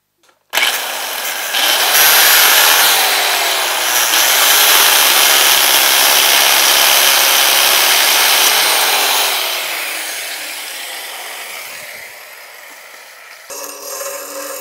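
A power tool cuts through a 5/8 bolt held in place with old plastic washers, a loud sustained grinding whine lasting several seconds close to the mic, then tapering off and stopping.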